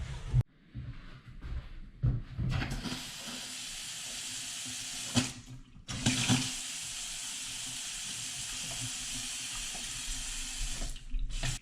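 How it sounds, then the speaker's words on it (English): Water from a newly installed hot and cold sink faucet: a few brief bursts and sputters, then a steady, loud hissing rush of running water that cuts off once and resumes, heard up close with no talking. "I'm going to go ahead and turn my water back on"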